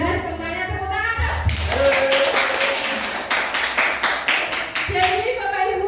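Teachers clap their hands together during a positive-culture school training session, bursts of sharp rhythmic claps in the middle between stretches of speech, close and fairly loud.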